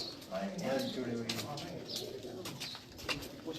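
Old-breed pigeons kept on a rooftop coo softly in low, rolling calls while someone talks nearby over a hiss of outdoor background noise.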